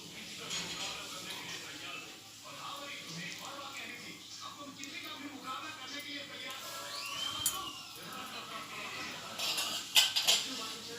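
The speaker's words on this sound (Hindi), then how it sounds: "अब हम चावल को अच्छे से ब्लेंड करेंगे।" A spoon stirs and blends rice in a pot for masoor pulao, giving soft scraping and occasional metallic clinks against the pot, close and continuous, with a voice talking over it.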